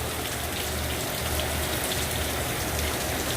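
Heavy rain from Hurricane Dorian in Orlando pours down steadily, a dense, even hiss of drops drumming on surfaces close by, with no voices.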